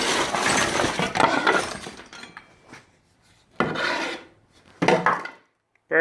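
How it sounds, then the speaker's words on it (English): Objects shuffled and set down on a workbench while clearing space to open a Makita power-tool battery: a stretch of loud, continuous rubbing and knocking of wood, metal and plastic, then quieter gaps broken by two more bursts of clattering. "I gotta make some room on the workbench here."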